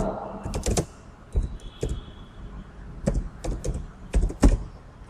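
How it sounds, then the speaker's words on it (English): Typing on a computer keyboard while filling in a text box of an Android lab program: several short bursts of close, crisp key clicks separated by brief pauses, no speech. "next I'll go to second text box and type enter second number,"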